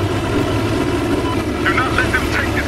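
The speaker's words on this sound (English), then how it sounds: "Transport copter, right here." A transport helicopter in the video game Battlefield Hardline drones loudly and steadily with a low engine roar and rotor thrum throughout, while a voice talks over it near the end.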